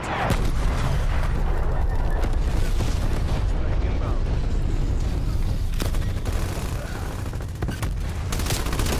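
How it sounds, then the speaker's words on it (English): Artillery strike explosions in Call of Duty Warzone, a loud unbroken roar of blasts and rumbling booms that runs throughout with scattered sharper cracks. "Incoming artillery. Strike inbound."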